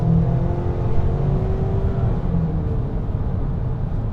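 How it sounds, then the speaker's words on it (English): A 2023 Ford Maverick Tremor with the turbocharged four-cylinder engine accelerating, a loud, steady engine drone and whir with a rising tone, heard up close and alone. "getting this turbo 4-cylinder, because this engine is a rocket"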